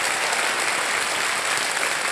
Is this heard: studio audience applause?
yes